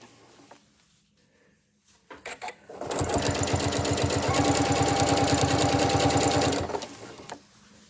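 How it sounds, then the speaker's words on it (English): A sewing machine runs steadily for about four seconds at a fast, even stitching rhythm while attaching binding to a quilt with a quarter-inch seam, after a few brief handling clicks. "I'm going to stitch right down this side with my 1/4 of an inch"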